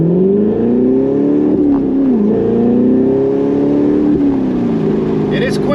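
A 2015 Corvette Stingray with a 6.2L V8 and manual gearbox pulls hard from a standstill, its loud engine note rising steadily through the revs with a brief dip at a gear change, close and continuous throughout.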